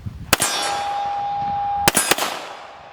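A Savage 1911 pistol fires single rounds from Wilson Combat magazines, loud sharp reports close by: one shot, a ringing pause, then two more in quick succession, the second followed by a fading echo.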